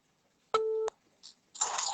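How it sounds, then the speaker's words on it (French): A phone call over WhatsApp rings with a single steady electronic tone lasting about a third of a second, followed by a brief soft blip, then rustling and handling noise. "Ouais, là, ça sonne."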